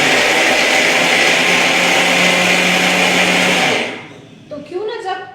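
A grinder whirs loudly and steadily as it crushes two or so torn rotis into crumbs, then cuts off, leaving faint rattles and handling noises.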